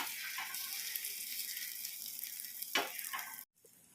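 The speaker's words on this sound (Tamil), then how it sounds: "இப்போ புளிப்பணியார செட்டில் ஊற்றி தான் செய்கிறோம்" An egg omelette sizzles in a paniyaram pan, a soft continuous frying hiss with a sharper scraping crackle near the end before the sound cuts off abruptly.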